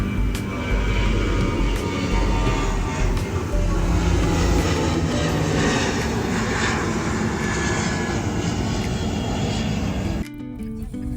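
An airplane takes off at KLIA airport, a loud, steady jet engine roar that carries on for about ten seconds before it cuts away to a quieter background.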